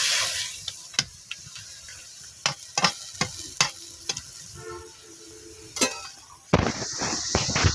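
Ash gourd with shrimp cooking in a pan with water added, a soft steady sizzle under repeated scraping clacks of a spoon stirring, ending in a louder burst of hissing.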